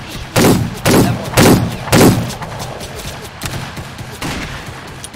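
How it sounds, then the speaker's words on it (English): Gunfire in the Roblox Wild West video game: four loud, evenly spaced shots in quick succession, then a pause and a fifth shot, with no talk over them. "Yeah, I hear shooting."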